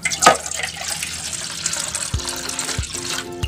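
Water runs from a tap into a cooking pot for making rice, a steady splashing pour with a few sharp knocks and clatters of the pot mixed in.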